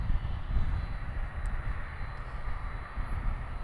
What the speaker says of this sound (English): we are waiting for the 747 to move